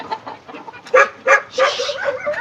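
Chickens on an integrated farm cluck in uneven bursts close by, a few sharper, louder calls rising among softer, busy clucking, with no talk over it.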